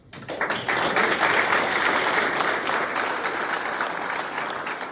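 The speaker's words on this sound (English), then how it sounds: "That was the polite ripple of applause after Sir Jim Ratcliffe cut the ribbon at Manchester United's new high-tech training ground." Polite applause from a gathered crowd after a ribbon cutting at Manchester United's refurbished Carrington training ground, rising quickly from near silence into a steady, even patter of clapping that holds at moderate volume.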